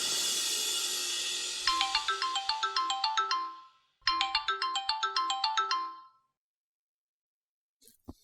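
Ringback tone of an outgoing phone call, a bright repeating electronic ringtone pattern in two bursts with a pause between, clear and loud with no talk, followed by silence.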